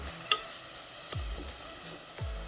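Tomatoes sauté on medium flame in a pan for drumstick and cowpea kuzhambu, giving a faint, soft sizzle broken by a few light clicks and low knocks of stirring.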